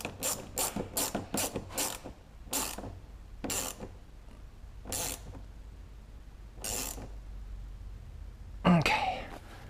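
A hose clamp is tightened on a Taco Moto fuel pump line during a Husqvarna FE 501s build, giving a series of crisp ratcheting clicks, fast at first and then spaced out, close and fairly quiet.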